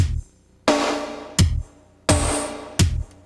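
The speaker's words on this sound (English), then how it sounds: "our drum track sounds like this" A drum track quantized to quarter notes, with strong, evenly spaced hits about every 0.7 seconds, each a punchy thump with bright ringing decay, close and loud.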